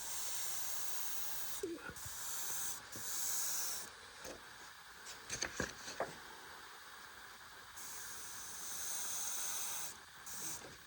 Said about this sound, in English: This is not a bad airbrush at all.